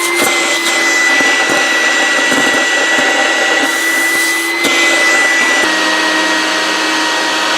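A 1980s IBM service vacuum roars loud and close, a steady high-pitched motor whine with brief rattling clicks and knocks as paper shreds are sucked through a small nozzle.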